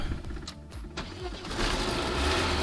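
A ZAZ Tavria car engine cranks with a few stuttering turns, then catches and settles into a steady, loud running rumble.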